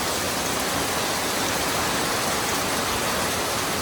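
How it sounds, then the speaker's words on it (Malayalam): Heavy rain pours down in a dense, unbroken roar, constant and loud throughout. "പുറത്ത് നല്ല തകൃതിയായ മഴയാണ് കേട്ടോ."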